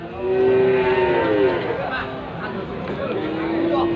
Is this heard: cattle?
yes